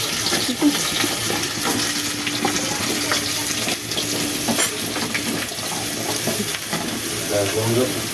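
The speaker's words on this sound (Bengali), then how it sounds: "দিয়ে আমি একটু ভালো করে ভেজে নিচ্ছি" Vegetables for shukto frying in a pan after a spice tempering, a dense, loud sizzle with busy stirring scrapes throughout and a faint watery trickle in the background.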